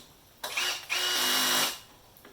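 Power drill tightening a 10mm bolt on a Honda HRU196 lawn mower, two close, loud whirring bursts, a short one followed by a longer steady run.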